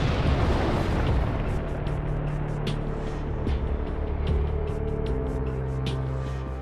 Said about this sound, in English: The worst case scenario, explosion of the compressed gas cylinder or gas tank.